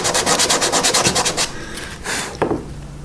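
Hand sanding on a wooden chess knight, with fast rhythmic rasping strokes that repeat closely and then give way to a few slower, separate rubs, loud and close with no talking.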